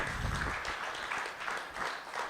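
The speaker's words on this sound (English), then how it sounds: "I think that deserves another round of applause." An audience at a European Business Council event with Polycarp Igathe applauds with steady, moderately distant clapping that fills the room throughout.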